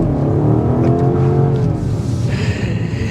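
A 2024 BMW X5 M Competition accelerates hard on a test drive, its engine note climbing and roaring loudly, then settling as tire and road noise take over.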